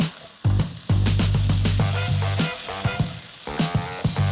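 Egg fried rice stirred and sizzling in a pan, loud close frying hiss with repeated sharp scrapes and clatters of the spoon against the pan, no talking.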